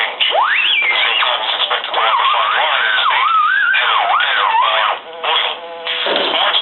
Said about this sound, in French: Ce petit bruit-là, c'est la fréquence de battement.